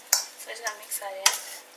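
A spoon stirs and folds through a large bowl of rice salad, producing soft scraping and clinking strokes in an irregular rhythm, close and fairly quiet, with no talking.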